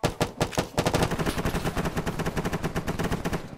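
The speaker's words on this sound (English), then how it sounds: "We're getting shot at." Rapid machine-gun bursts in the Arma 3 military simulation game, a close, loud stream of regular gunshots that stutters at first, then settles into a sustained rattling volley with no talking.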